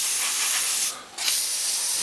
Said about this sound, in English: Spraying the turret. Come at it from the different sides.